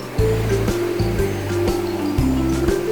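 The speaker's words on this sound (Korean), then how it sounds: "와 파도 오는 거봐 파도 엄청 세" Heavy ocean waves surge and break close by at Sampo Beach in repeated rushing pulses, with a low rumble underneath.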